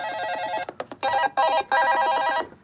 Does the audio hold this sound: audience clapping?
no